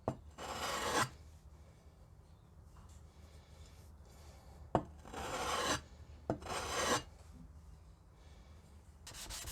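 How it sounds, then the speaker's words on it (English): A file rasps against the metal sides of a rusty block plane as the edges are chamfered, close and clear in three separate bursts of rough strokes with short pauses between them. "The sides have become sharp from flattening the sole, so I chamfer each side and smooth out the front and rear edge of the body."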